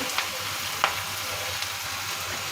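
Bitter gourd (karela) slices frying in a pan, giving a steady, soft broadband sizzle with a few brief louder crackles and spatula scrapes, close and alone without talk.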